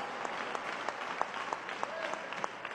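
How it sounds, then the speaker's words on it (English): Audience applause at a Nation of Islam drill competition event, steady clapping from a crowd heard at a distance, fairly faint with scattered sharper claps throughout. "Let us all give him a well-deserved round of applause."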